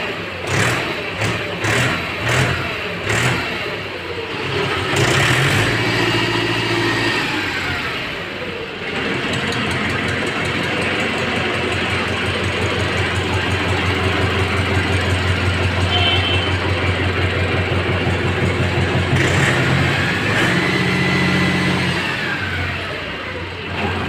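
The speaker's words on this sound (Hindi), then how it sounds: "ट्रैक्टर स्टार्ट क्या जानदार आवाज़ आप आराम से आवाज़ सुनो ट्रैक्टर की" A 42-horsepower Mahindra 475 DI diesel tractor engine runs loud and close, starting with a few rough chugs, then settling into a steady throbbing idle with occasional revs.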